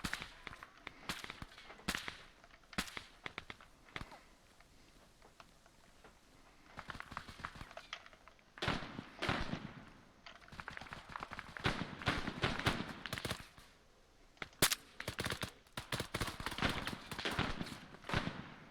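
Airsoft gunfire during an outdoor skirmish among buildings and tents, with sharp cracking shots firing in rapid irregular bursts, some close and loud, others fainter, continuing throughout.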